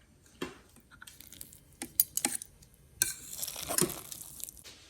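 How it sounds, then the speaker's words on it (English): Rice being fluffed with a fork in a pot for Cuban arroz con pollo, producing scattered light metallic clinks and scrapes, some close and sharp, others soft, in an irregular rhythm. "You need to fluff it with the fork."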